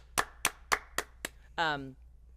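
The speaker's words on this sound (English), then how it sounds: "Big clap for you" Five crisp, evenly spaced hand claps, close and distinct, for a guest on a talk show, followed by a brief voice.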